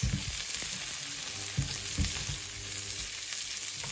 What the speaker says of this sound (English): you fry the onion